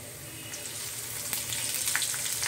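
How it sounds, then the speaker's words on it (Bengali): Fish sizzling in hot oil as chopped onion is added, with a steady close frying crackle that grows slightly busier partway through, topped by a few sharp spits and pops. "মাছগুলো একটু ভেজে নিব তো এই অবস্থায় দিয়ে নিচ্ছি পেঁয়াজ কুচি"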